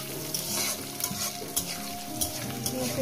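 Onions frying with a spoonful of salt in a pan while cooking chicken kosha, a steady close sizzle with occasional stirring scrapes and clinks throughout.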